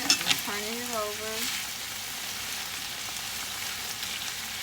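Meat browns in a hot pan with a steady, fairly faint sizzle and frying crackle throughout, while a voice briefly speaks over it near the start.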